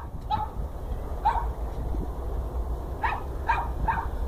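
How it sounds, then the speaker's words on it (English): A small dog yaps far off in short bursts, a couple of barks early and three more near the end, over steady outdoor background noise. "Can you hear the little doggy way over there barking?"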